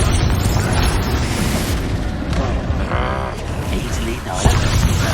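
A Confringo fire spell bursting in the Hogwarts Legacy video game amid loud, continuous combat noise, with booming explosive impacts and rumbling layered under a character's voice.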